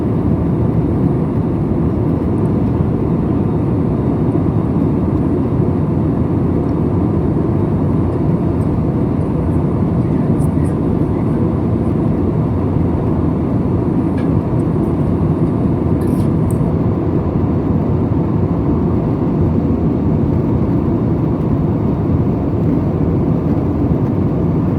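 Steady, loud cabin roar inside a SriLankan Airlines airliner cruising at fairly low altitude, a continuous broadband engine and airflow drone that holds level throughout with no speech.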